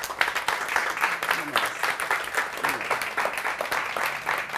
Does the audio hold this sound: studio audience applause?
yes